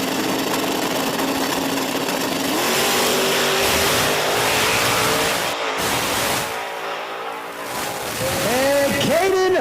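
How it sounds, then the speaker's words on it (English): Two drag race cars launch and roar down the strip at Virginia Motorsports Park, a loud sustained engine blast that surges, briefly drops, then returns with rising and falling revs as they pass. "This is going to be a good pass here, or excuse me, good race here between these two cars."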